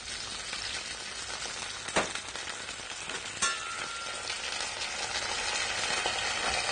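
Halved garlic cloves sautéing in a pan, a steady close sizzle and frying crackle with a couple of stirring scrapes.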